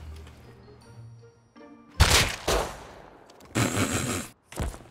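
Gunshots ring out in the video game Rust, aimed at a player zigzagging to dodge. Quiet background tones give way to loud, cracking reports, with a sustained burst of rapid fire in the middle and a final shot.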